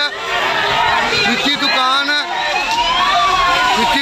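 A fire engine siren wails with rising and falling tones amid loud street noise and people talking nearby, at a fire in a chemical shop.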